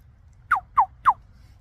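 A person imitates a bird call to attract crows, giving three short, sharp, rising calls evenly spaced about a third of a second apart, loud and close against faint background hum.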